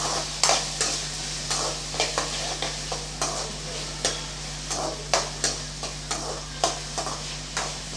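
Tomatoes sautéing in a pan for a fish curry, with repeated stirring scrapes and soft sizzling at an irregular rhythm, close and moderately loud, over a steady low hum.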